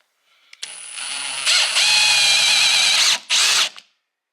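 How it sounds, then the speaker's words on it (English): Harbor Freight punches bore holes through a piece of cardboard, a close, whining power-tool drone that runs steadily for a couple of seconds, cuts out briefly, then gives one more short burst. "we're gonna go ahead and try to use these Harbor Freight punches just to make the holes in this piece of cardboard"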